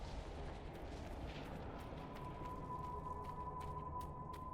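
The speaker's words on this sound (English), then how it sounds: "Yeah, that'll definitely explode." Rumbling blasts from exploding barrels in Dragon Age Inquisition, a steady low roar with scattered sharp pops and crackles throughout, fairly quiet and with no voices over it.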